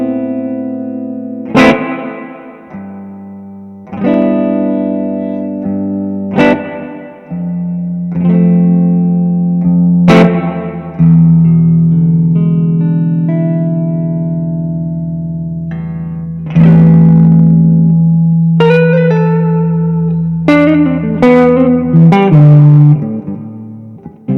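Electric guitar played clean through a Vox AC10 amp with heavy reverb, loud ringing chords and single notes struck every few seconds, each sustaining and blooming into a long reverberant tail.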